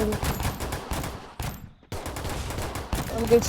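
Dense gunfire from the mobile battle-royale game Free Fire Max, a sustained burst of rapid shots that cuts out briefly midway, then resumes loud and close.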